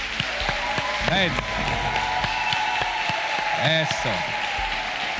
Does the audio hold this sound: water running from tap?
no